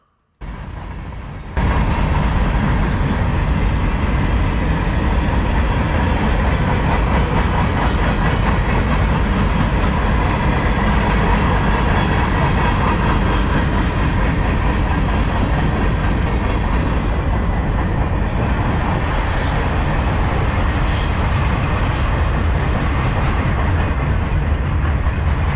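A CSX freight manifest train, Q574, hauled by older locomotives, rolls past at close range, a loud, steady rumble with rhythmic wheel clatter running unbroken for the whole pass.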